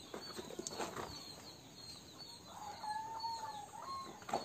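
Farm chickens and a rooster cluck and call softly at a distance, with a brief flutter of wings and a drawn-out crow-like call near the end, all fairly quiet with no talk.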